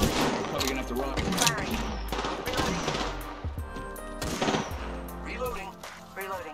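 Rapid automatic gunfire in the video game Apex Legends, loud close bursts of shots crackling in quick strings with brief pauses, layered over game music and effects.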